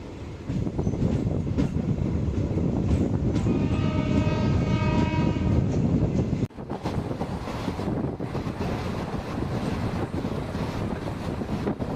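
A Tambaram–Tenkasi intercity passenger train running, giving a loud continuous rumble and clatter with wind buffeting. A horn sounds in layered tones midway, followed by an abrupt change to rattling wheel noise.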